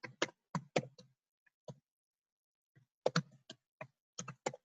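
Someone types an email address on a computer keyboard, with short bursts of crisp key clicks split by a pause of about a second and a half, close and clear with no voices.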